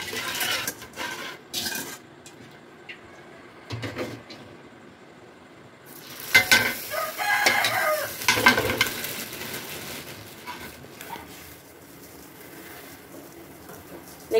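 Vermicelli frying and being stirred in a pan for sheer khurma, a sweet Eid dessert, with a soft sizzle and scraping that builds in the middle, alongside occasional clinks and scrapes of utensils.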